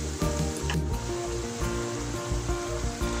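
Kerala-style banana slices deep-frying in hot oil for homemade chips, a loud dense continuous bubbling hiss that stays steady throughout, close up with no voices.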